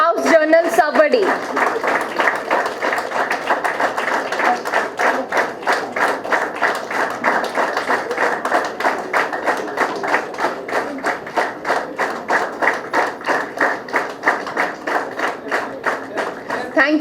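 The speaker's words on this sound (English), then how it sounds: "A huge round of applause to all the contributions that are incorporated in this" Steady rhythmic applause from an audience at a valedictory ceremony, loud and sustained with a regular clapping beat, as if clapping in unison.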